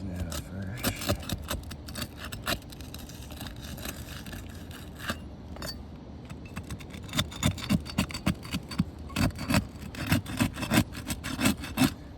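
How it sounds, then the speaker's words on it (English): Worn roof shingle with the last granules flaking off as the tar strip underneath is scraped, giving repeated close rasping scrapes in uneven bursts that grow busier toward the end. "as we scrape that tar strip underneath, the last bit of granules are falling off the top"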